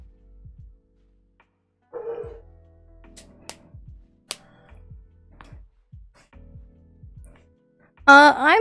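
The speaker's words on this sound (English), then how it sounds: "Sorry about my dogs if you hear them in the background." Dogs in a home bark and whimper in the background of a live stream, with faint yips and tapping early on, then a sudden louder whining bark at the end.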